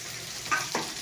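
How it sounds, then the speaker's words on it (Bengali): Onion frying in a pan, a bright steady sizzle with two quick stirring scrapes close up, lasting about a second with no talk. "যাই হোক একটু পেঁয়াজটা একটু ভাজা হোক"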